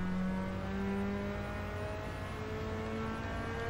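A Mazda RX-7 race car in Gran Turismo 7 holds a steady, high, buzzing engine drone at sustained revs for the whole stretch, with no voices over it.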